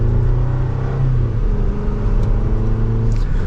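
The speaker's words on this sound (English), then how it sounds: "So let's go to second gear, give it some gas." A 2024 Chevrolet Colorado Trail Boss engine pulls hard in low range, second gear, a loud steady rumbling drone close by that swells slightly as the truck gains speed, with no talking.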